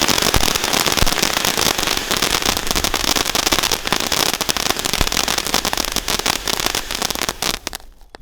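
Rapid strings of Sivakasi Diwali firecracker bangs crackle continuously, dense and loud, with sharp pops scattered throughout before cutting off near the end.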